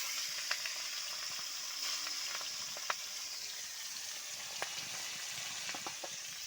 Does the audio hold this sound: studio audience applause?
no